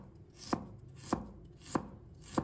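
A knife slices a piece of peeled fresh ginger on a cutting board, making four crisp, evenly spaced chops about half a second apart, close and clear against a quiet kitchen background.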